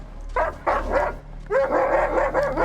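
Several dogs bark in a television drama episode, with repeated close, loud barks and yips in two bursts over a steady low background hum.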